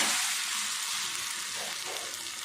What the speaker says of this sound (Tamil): ஆம்லேட் ஒரு பக்கம் நல்லா வெந்துருச்சு. அடுத்த பக்கம் திருப்பிடலாம்.